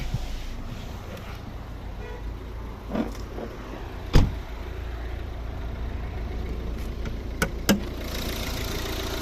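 A 2014 Volvo V60 with a 1.6 D2 diesel engine of 115 hp idles with a steady low drone, broken by a few faint clicks and a sharp knock partway through.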